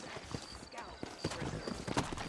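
Horses in the video game Red Dead Redemption clip-clop at a walking pace in an uneven trot, with a voice talking over the hoofbeats.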